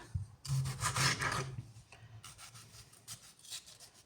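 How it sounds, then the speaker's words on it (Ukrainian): A knife saws through a pink tomato on a board in a home kitchen, giving close, rasping cutting strokes in uneven bursts with short pauses between them. "Тепер беремо, ріжемо помідор, ложимо його у друшлячок"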